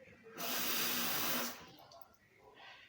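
Tap water runs from a faucet into a sink for about a second in a steady close hiss, then stops, leaving a quiet room.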